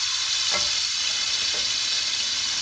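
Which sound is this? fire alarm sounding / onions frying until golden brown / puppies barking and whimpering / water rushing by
onions frying until golden brown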